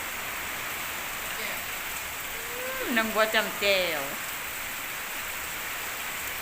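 Steady rain hisses evenly throughout, with a person briefly speaking over it in the middle.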